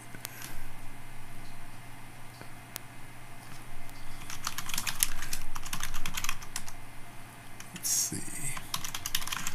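Computer keyboard typing on a PC, a continuous run of close, rapid keystrokes in uneven bursts over a low steady hum, with no talking.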